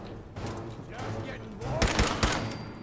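Gunfire in the Fallout 4 video game, a handful of sharp shots cracking out near the end after a stretch of rumbling game noise, loud and close, with muffled speech underneath.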